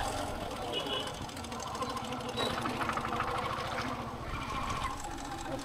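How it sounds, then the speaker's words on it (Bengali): Motorbike engine labouring up a narrow, steep hill road past tea gardens near Mirik, a steady mid-pitched drone with rapid rattling pulses and rising effort, close and continuous throughout. "এই পাহাড়ি রাস্তায় উঠছি বাইক দিয়ে"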